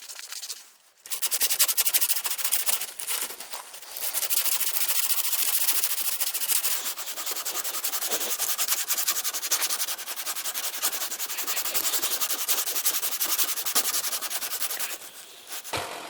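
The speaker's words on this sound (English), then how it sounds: "I hand sand the handle from 80 to 600 grit." A knife handle on a parang made from a sawblade is sanded by hand with sandpaper, close and continuous rough rubbing strokes after a brief pause at the start.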